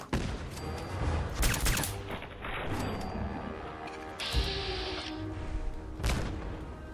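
Grenades detonate in the Fallout 4 video game, a rapid cluster of loud booms and crackling blasts rolling over several seconds with some mechanical game noise between them.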